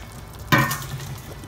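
A spoon stirs potatoes and carrots into a simmering beef stew in a pot on a Pit Boss ceramic grill, with one sharp scraping clatter and a short sizzle that quickly fades back into a low bubbling.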